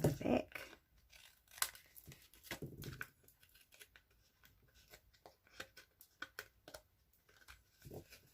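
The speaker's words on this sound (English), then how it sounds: "just want to trim off any that go to the back." Scissors trimming paper hearts along the edge of a handmade thanks card, a series of quiet snips and papery crinkles close up, with some handling rustle between cuts.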